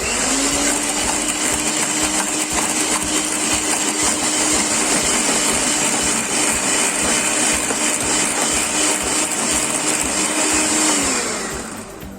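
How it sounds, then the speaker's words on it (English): An electric mixer whisks an egg into a creamy batter, running as a loud, steady high-pitched motor whine that holds for about eleven seconds before winding down at the end, with no talking. "Now the remaining 1 more egg and whisk it again"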